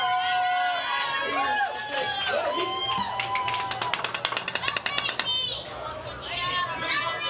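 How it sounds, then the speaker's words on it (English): A small crowd around a cook cheers and claps, a burst of rapid applause mixed with excited chatter and overlapping voices. "We got a little crowd going on here, ladies and gentlemen."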